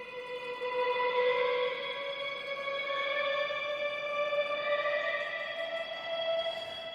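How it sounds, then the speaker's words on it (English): Electric guitar played through a Big Sky reverb pedal, melting into a lush, echoing wash of sustained tones that swell gently and linger without breaks, alone and fairly soft. "Once again, if I try with the Big Sky"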